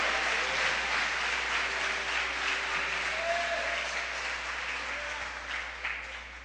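A church congregation applauds in a steady, dense wash of clapping that holds at an even level, with a low electrical hum beneath it and some murmuring voices.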